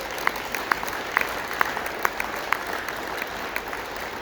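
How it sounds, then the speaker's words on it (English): Sparse, fairly quiet clapping from a small audience at a regional stand-up meeting: individual claps land at a steady pace over a soft background hiss. "let's give all those promotions a round of applause"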